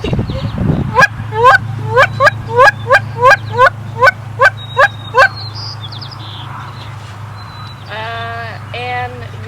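A person mimics a Canada goose honker by mouth, giving about a dozen evenly spaced, sharp honking notes at a steady clip, close and clear. Two more clipped honks follow after a brief pause.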